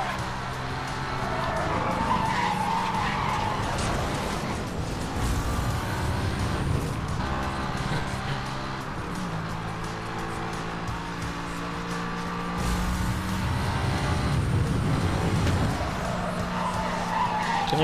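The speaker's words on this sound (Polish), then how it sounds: "Ja zaraz wam tu pouderzam auto" In the Need For Speed: Hot Pursuit video game, cars ram each other and skid, with long, loud tire squeals and engine roar running continuously across the whole stretch of game audio.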